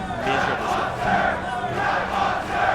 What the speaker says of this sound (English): we're hearing a huge crowd right now